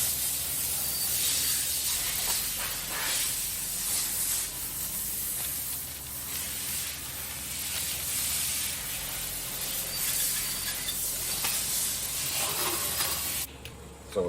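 A spray gun hisses in a steady continuous stream while painting stencils on an MB Jeep in a professional shop, loud and close with no talking, cutting off abruptly near the end.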